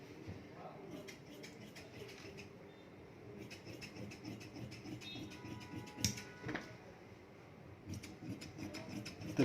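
Scissors cutting through fabric for ladies' pants, a series of faint, close snips and rustles of cloth on a work surface, with quiet background noise.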